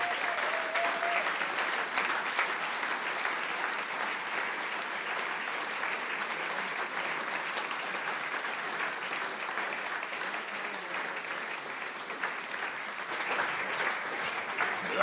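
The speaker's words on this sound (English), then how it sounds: "let's have a round of applause for Mike D" A long, even round of applause from a gathered crowd welcoming Mike D, steady and somewhat distant for the whole stretch, with faint voices mixed in.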